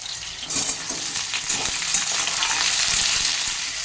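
Potato pieces fry in hot oil in a pan for a kundru dish, giving a loud, continuous sizzle with crackling bursts and no voices.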